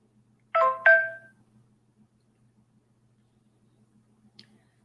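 A phone gives a short two-note electronic chime, clear and close in an otherwise quiet room, followed by near silence and a faint tick.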